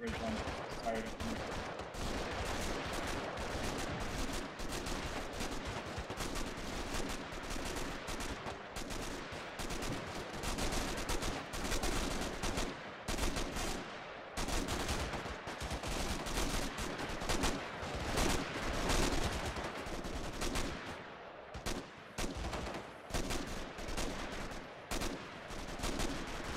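Gunfire in the video game Arma 3 during a ridge-line engagement, with dense, continuous rapid shots and machine-gun bursts throughout and voices faintly beneath the shooting.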